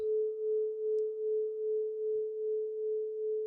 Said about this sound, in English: Every time you hear the bowl,